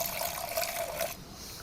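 Water is poured into a container to dissolve a natural farm oil solution, a short soft gurgling pour that cuts off near the end, close and quiet.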